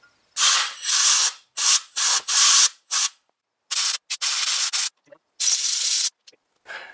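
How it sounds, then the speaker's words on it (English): Compressed air blasts clean gunk from the threads of a rear brake caliper off a 1987 Corolla AE86, heard as about a dozen sharp hissing bursts of varying length, close and loud, separated by brief silences. "use a bit of compressed air to clean them"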